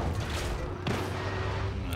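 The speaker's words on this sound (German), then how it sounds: "explodieren hier ganz schön viele Fahrzeuge" Vehicles blowing up in Just Cause 3, with a steady rumble of chaotic blasts and one sharp explosive crack near the middle, under ongoing noise.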